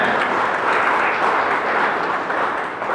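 Steady applause from a crowd at a railway goods-shed workers' union gathering in Bengal, a dense wash of clapping that holds evenly for a few seconds without voices.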